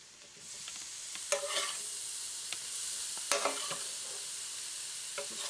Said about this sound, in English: Just flip these over, flip them around.